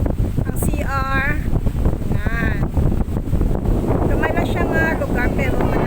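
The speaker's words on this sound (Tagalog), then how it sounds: "Kanami isang hangin." Wind buffets the microphone at a beach resort, a steady loud rush throughout while someone talks over it in bursts.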